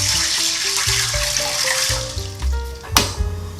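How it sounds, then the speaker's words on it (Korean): Water, 600 ml, pours into a pot for cooking adzuki beans for Korean five-grain rice, a close gurgling flow with shifting pitch as the pot fills, ending in a brief splash. "두 번째도 물 600ml를 같이 부어주세요."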